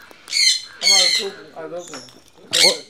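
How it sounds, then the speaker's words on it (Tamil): Large parrots squawking loudly at close range in several harsh, raspy calls, with a short gap before a final squawk. "பாருங்க மக்களே பெரிய பெரிய கிளிகள்."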